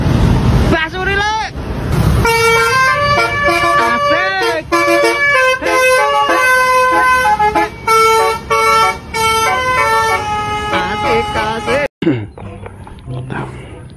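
A loud, melodic multi-tone basuri bus horn plays a rapid warbling tune for about ten seconds, close by, ending abruptly, with traffic noise around it.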